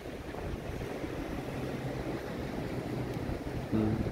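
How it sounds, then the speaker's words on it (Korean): Rough sea surf pounds the Jeju Island coast in bad weather, a steady broadband roar of waves mixed with wind buffeting the microphone, with a louder surge near the end. "파도가 성났어."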